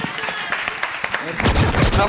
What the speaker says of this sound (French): Public, il faut applaudir